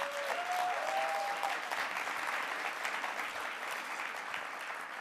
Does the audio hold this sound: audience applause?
yes